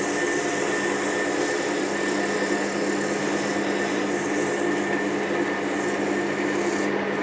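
Chestnut wood spinning on a lathe is sanded with 400 grit abrasive, giving a steady, continuous rubbing hiss over the lathe's constant hum, close and fairly loud throughout with no talk.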